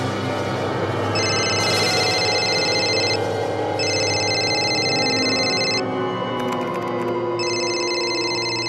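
A telephone rings in repeated electronic bursts, each about two seconds long with short pauses between, loud and close over a low hum.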